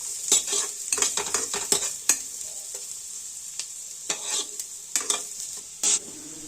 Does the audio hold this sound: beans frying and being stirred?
yes